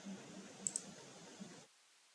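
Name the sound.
computer mouse right click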